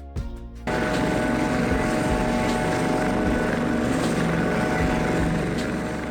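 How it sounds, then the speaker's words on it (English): A Coast Guard helicopter's rotor and engine start abruptly after a brief quieter moment, then hold as a loud, steady, close whirring roar. "Coast Guard helicopter"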